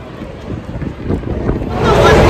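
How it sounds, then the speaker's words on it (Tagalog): Strong wind rumbles against the microphone, growing louder and rougher toward the end, with faint voices underneath. "Lakas ng hangin"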